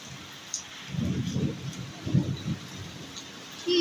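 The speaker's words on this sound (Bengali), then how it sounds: "ঝড় বৃষ্টি শুরু হলো এখন" Heavy rain pours during a thunderstorm, a steady wash of hiss with rolling thunder rumbling through the middle and a louder burst at the very end.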